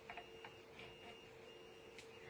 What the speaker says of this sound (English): You guys hear the 3D printer's been working hard.